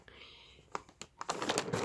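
Plastic packet crinkling and rustling as a box holding a yarn order is unpacked, starting with a few sharp crackles and then building into a steady, close, busy crinkle.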